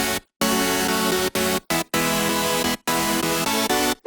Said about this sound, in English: So chords without effect sounds like this.